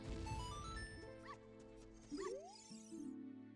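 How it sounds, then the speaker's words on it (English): Dog barking used as the low-health warning in an Ocarina of Time Randomizer tournament game, short yelping bursts repeating over busy game music and effects. "low health sound is barking"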